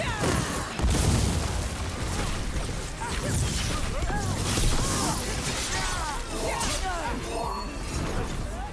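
Loud crashing, shattering blasts from a fight against Venatori in the video game Dragon Age: The Veilguard, with repeated booms and debris over about nine seconds and voices talking underneath.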